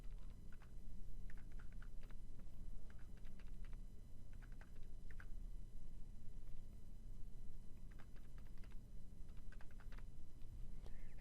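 Data is typed into a computer calculator on a keyboard, with scattered bursts of soft key clicks over a constant low hum; quiet and close, with no talk.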